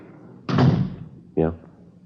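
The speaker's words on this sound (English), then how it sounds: "Close the door." A door swings shut with a single solid thud, and a short voice follows right after.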